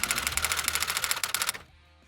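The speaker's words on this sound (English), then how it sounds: "What I'm going to do first is remove this trim so we can see all the damage on the panel." Trim being pulled off a damaged car panel, a fast rattling train of sharp clicks as clips release one after another, then stopping abruptly into near silence.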